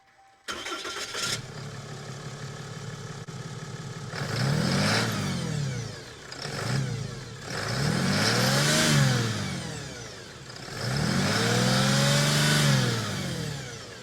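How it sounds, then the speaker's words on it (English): A 2022 Ram 3500 diesel pickup fitted with an S&B cold air intake cranks and fires up, then idles and revs in several swelling pulls as it drives off, loud and close with no talk. "let's get this out of the driveway and let's check it out"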